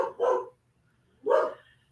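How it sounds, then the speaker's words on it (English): A dog barks twice at animals outside, two separate sharp barks about a second apart, close and clear against a quiet background. "the animals walking outside that Tyler's barking at"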